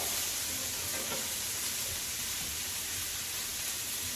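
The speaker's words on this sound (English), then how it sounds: "And I want to saute these vegetables. So, I'm using the same skillet" Vegetables sauté in a skillet still seasoned from an earlier cook. A dense, even sizzle and hiss carry on without a break, close and loud, with no talking.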